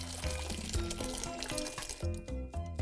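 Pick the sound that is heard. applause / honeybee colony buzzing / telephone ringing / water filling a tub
water filling a tub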